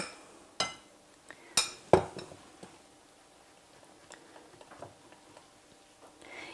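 Flour batter being stirred in a bowl with a utensil: a handful of sharp clinks and ticks against the bowl, sparse and irregular, then softer scraping taps, close up in a quiet kitchen.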